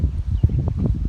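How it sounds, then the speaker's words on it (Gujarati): Strong, dusty stormy wind gusts in Porbandar, buffeting loudly in low, rumbling bursts with no talk. "આવો પવન વાયો અટાણે ફૂલ પવન છે એકદમ"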